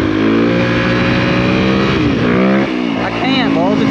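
A motorcycle engine droning loud and close, then dipping for a gear change to second and rising again as it accelerates, with a rider talking over it.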